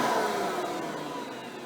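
Hoover Elite upright vacuum motor running steadily, a close, even whirring hum with a slight drop in level and no talk over it.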